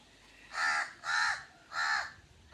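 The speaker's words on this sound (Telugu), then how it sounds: "కాకుల సౌండ్లు, పిట్టల సౌండ్లు" Three loud crow caws in steady succession, each a harsh drawn-out call with short gaps between, heard near and alone in a rural farm field with flowering plants.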